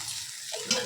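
Ivy gourd fry being stirred with salt in a pan on the stove, a short scraping stir over a soft sizzle with one brighter scrape near the end.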